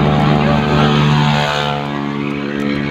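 An airplane passes overhead near Hang Nadim Airport in Batam, a loud, steady engine drone with strong tonal hum that eases slightly toward the end.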